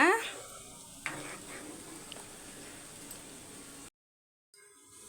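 Onions sauté gently in a pan for a biryani meal, a steady frying hiss with a couple of light utensil clinks, then a brief cut to silence.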